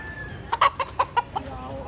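A White Kelso gamefowl rooster on a game farm gives a short burst of about six loud, close clucks and crowing notes, quiet background around it.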